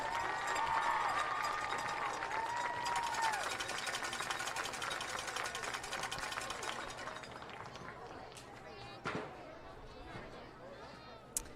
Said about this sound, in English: let's give a big round of applause to our 2024 band and minor cadet members